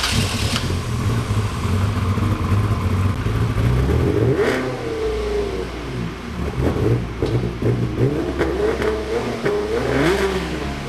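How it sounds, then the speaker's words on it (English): A flood-damaged Ferrari V8 supercar engine starts and runs close by in a garage, rising through a series of loud revs and settling back toward idle several times, steady and throaty throughout. "we were able to find out that yes, the engine does start"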